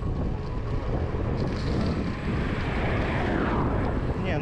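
Strong wind buffets a microphone on a gravel bike ride, a constant dense roar of rumbling gusts that fills the whole clip, loud and close, with no other sound standing out.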